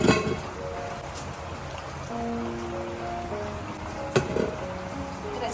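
Heavy monsoon rain pouring outside a Konkan village home, a dense continuous hiss with scattered drips and splashes, steady at moderate distance and heard alone without speech.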